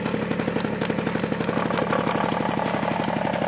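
A Peugeot 103 SPX moped engine idles just after starting, a rapid, even two-stroke putter ticking along steadily at close range.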